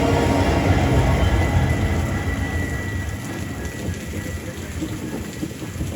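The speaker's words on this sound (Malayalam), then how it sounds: "ഇത് മാംഗ്ലൂർ സെൻട്രലിലോട്ട് പോകുന്ന വണ്ടിയായിരിക്കും" A passenger train bound for Mangalore Central rumbles past at close range, its loud, steady broadband roar slowly easing over six seconds, with a rain-like wash of rolling noise and no voices.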